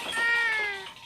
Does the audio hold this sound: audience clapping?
no